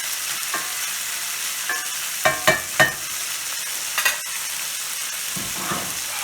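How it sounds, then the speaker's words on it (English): Leftover pasta frying in a pan gives a steady loud sizzle, with sharp spatters and pops breaking through every second or so, and no talking. "We'll just cover that for a second because that's splattering everything everywhere."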